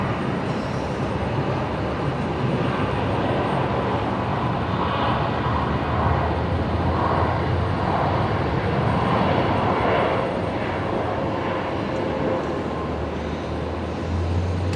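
Jet engines of an Airbus A321neo at Brisbane Airport give a broad, continuous roar that holds steady and loud throughout, with no voices.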